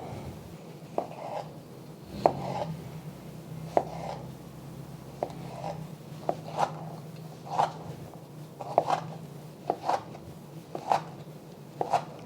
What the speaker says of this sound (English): I'm going to chop up 2 Roma tomatoes